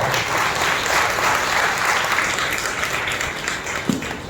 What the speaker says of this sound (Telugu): మరొకసారి బిగ్గరగా చప్పట్లు కొట్టి ప్రభువును మహిమపరుస్తాం.